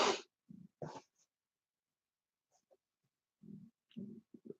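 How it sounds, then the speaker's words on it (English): A quiet stomach growling nearby: short, low gurgling rumbles in scattered bursts separated by silence, faint and close, with no talking. "excuse me if you heard my stomach growling"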